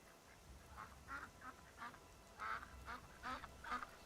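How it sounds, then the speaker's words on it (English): Ducks quack in short bursts near a pond along the road by Riverwood in the game Skyrim, a string of about seven or eight nasal calls over faint ambient background. "I hear ducks."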